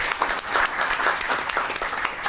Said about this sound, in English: Big round of applause for our panel and all our speakers.